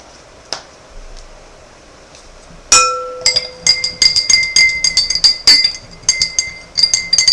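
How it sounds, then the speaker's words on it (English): Salt water solution being stirred in a glass bowl, sharp glassy clinks and taps that start abruptly and repeat in an uneven, busy rhythm, close and fairly loud with no talking. "Make sure you stir it pretty well."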